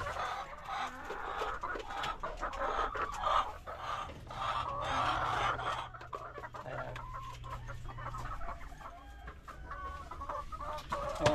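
Hens cluck and murmur in an egg-laying coop, several birds overlapping in a busy, moderately close chorus with a low steady hum underneath and no speech.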